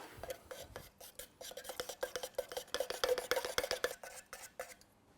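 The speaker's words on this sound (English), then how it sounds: "Give that a good stir up." Steady scraping and clinking of a stick stirring paint thinned with water in a tin, a rapid, uneven rhythm of strokes, close by and fairly quiet.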